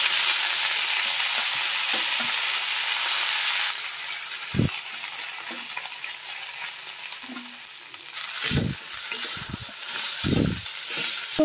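Moringa leaves frying in a little oil in a pan, a steady sizzle and hiss with occasional stirring knocks and clatter near the end, close by, with no talk.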